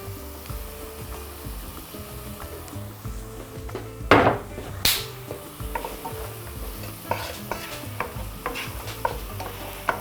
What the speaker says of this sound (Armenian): սոխը թող տապակվի